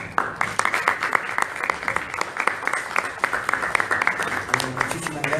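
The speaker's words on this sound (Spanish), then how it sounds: "Por favor, los recibimos con fuertes aplausos" An audience at a book fair conference table applauds the arriving panel, steady rhythmic clapping from many hands lasting several seconds.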